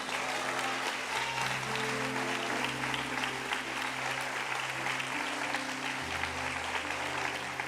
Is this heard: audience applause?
yes